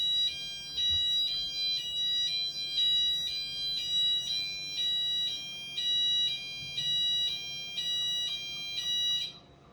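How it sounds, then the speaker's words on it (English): A building's weekly fire alarm test: a high electronic tone pulses in a steady, repeating beep pattern for about ten seconds, fairly loud and close, then cuts off abruptly, with faint background hum and no talking. "And there's the weekly fire alarm test."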